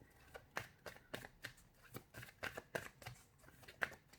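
Tarot cards are handled and drawn from a deck, with a run of quick, soft, close-up card flicks and slides in an uneven rhythm, each one brief and crisp against a very quiet room.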